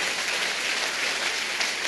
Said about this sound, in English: Keep on clapping.